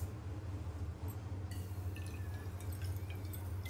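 Water poured from a half-cup measure onto a cup of sugar in a pan for jalebi syrup, a soft steady trickle and splash with faint drips over a low steady hum, close and quiet.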